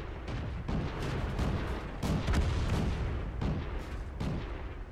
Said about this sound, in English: I stop to take a shot at the M2,